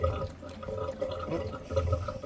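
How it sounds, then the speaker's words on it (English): Pool water gurgles back into the pool through a newly changed diverter valve as air works through the plumbing, a close, bubbling, uneven churn that lasts a couple of seconds with no voices. "That gurgling is the water going back into the pool."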